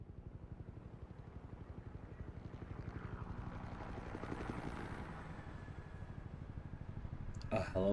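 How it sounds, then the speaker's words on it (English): A helicopter flying in the Batman Telltale Series video game, a loud continuous rhythmic rotor chop throbbing steadily throughout, with a brief burst of another sound at the very end. "A helicopter?"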